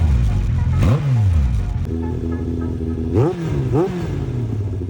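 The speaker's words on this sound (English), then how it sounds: "Next up is revs to 4000 RPM." Yamaha R1 and Suzuki Hayabusa sport motorcycles revving their exhausts to 4000 RPM, loud close engine roar with several rising blips that climb and fall back to a steady idle.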